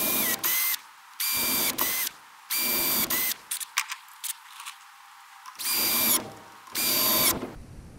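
A power drill drives a screw into the leg of a homemade wooden outboard motor stand, running in several short, loud, close bursts separated by brief pauses.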